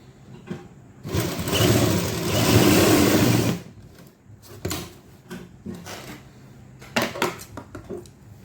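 A sewing machine stitches the seam of palazzo pants in one loud, steady run of about two seconds, followed by scattered clicks, knocks and fabric handling up close. No one speaks.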